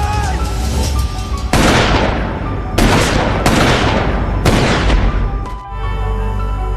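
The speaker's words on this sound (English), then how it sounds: "The old guy suddenly fired several shots." An old man suddenly fires several gunshots, loud sharp cracks in an irregular burst of about four reports, each ringing out and decaying over a background din.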